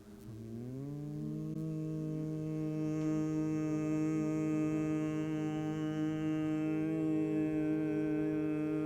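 Group of people humming together during a music therapy exercise, a steady sustained drone that rises in pitch at the start, then holds loud and even for several seconds with no spoken words.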